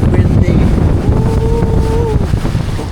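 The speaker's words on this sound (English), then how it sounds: "Very windy." Strong wind buffeting the microphone on a speedboat island-hopping off El Nido, Palawan, a loud steady roar with low rumble throughout, joined by a faint tonal whine from the boat midway.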